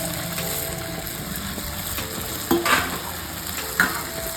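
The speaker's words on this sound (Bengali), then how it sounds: "ভাজা মাংস" Chicken pieces fry in a pan for a spicy curry, with a steady soft sizzle and a few louder scraping clacks as the meat is stirred, no voices.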